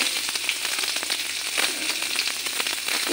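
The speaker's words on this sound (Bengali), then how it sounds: "আমার শুকনো লঙ্কা, গোটা জিরা, তেজপাতাটা ভাজা ভাজা হয়ে গেছে" Dry red chillies, whole cumin seeds and a bay leaf fry in hot oil for a Bengali lentil chachchari, giving a steady, close, continuous sizzle with faint crackles throughout and no talk.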